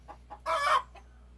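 A flock of Aseel and Blueface Hatch cross gamefowl includes a hen clucking softly twice, then a short, loud, strained crow, followed by one more cluck, close by and without talk.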